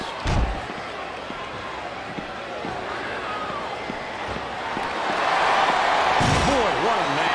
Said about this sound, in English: Those repeated slams of the head into the table will have a profound effect on this match.